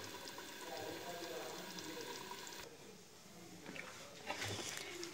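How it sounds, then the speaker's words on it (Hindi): One cup of water pours into a pot for mash daal before pressure cooking, a soft trickling and splashing that stays quiet and close, with a brief change in tone midway. "तो ये बार सिर्फ 1 प्याली मैंने पानी डाला है।"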